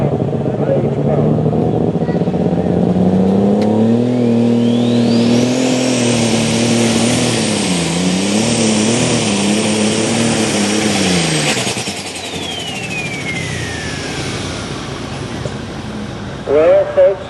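A pulling tractor with three turbos in the overload super stock class roars at a night truck and tractor pull in Shippensburg, PA, its loud revving engine climbing with a rising turbo whine that holds, then fades; faint voices sit underneath.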